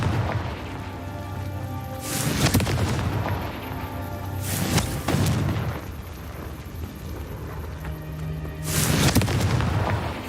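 Confringo spells from the Hogwarts Legacy video game erupt in three heavy booming blasts, spaced a few seconds apart over continuous rumbling game ambience.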